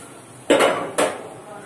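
Metal utensils clink twice against a bowl as an ingredient goes into vegetable momo stuffing, two sharp close knocks about half a second apart, with no talking.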